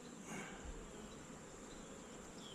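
Honeybees swarm around an open beehive, a dense, steady buzzing hum close by with no voices.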